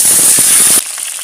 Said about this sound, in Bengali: প্রথমে আমি আলু ভেজে নেব